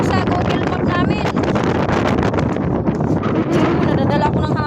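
Strong wind buffets the microphone at a beach in Calatagan, Batangas, a loud continuous roar and rumble with gusty surges throughout, under faint voices.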